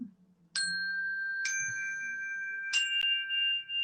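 Three bright metallic chime strikes ring out one after another, each tone sustaining and overlapping in a clear, calm shimmer.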